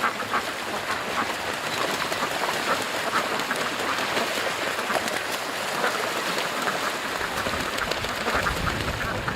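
Rain falls outdoors as a continuous dense hiss and patter on surfaces, with ducks quacking faintly in the mix and an occasional low voice underneath.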